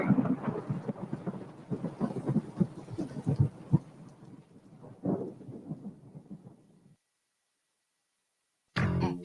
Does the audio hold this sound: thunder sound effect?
yes